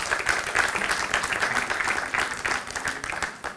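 A conference audience at a finance conclave applauds the presenters, with sustained crowd clapping at moderate level, a continuous rattling texture with some individual claps standing out, and no speech over it.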